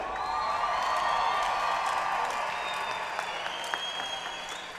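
A fight-event crowd at Nations Collide (Silverio vs Sazoff) applauds and cheers in a steady, roaring wash of clapping and voices, with a few faint whistles over the sustained noise.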